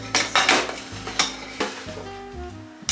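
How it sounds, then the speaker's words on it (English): Ziti pasta going into a pot on a home kitchen counter: several sharp clattering and rattling hits, spaced unevenly in quick succession, close and fairly clear, with no talking. "I'm just gonna put the pasta to cook."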